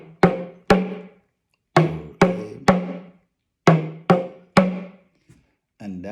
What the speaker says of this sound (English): This is an introduction to Yoruba talking drum